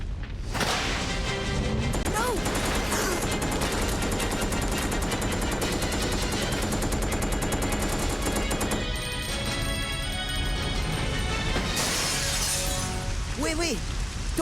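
Loud gunfire from the video game Resident Evil Code: Veronica, with whip-like cracks, rapid bursts and glass shattering over a dense, continuous mix. Voices speak over parts of it.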